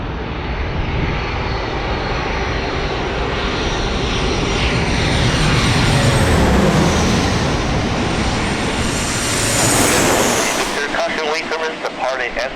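An Alaska Airlines jet departs at twilight in San Diego, its engine roar loud and steady, swelling and then fading over about twelve seconds, with a faint radio voice in the background.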